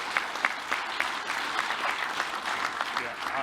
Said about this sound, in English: I just want to give a round of applause, if we can, for thanking them for that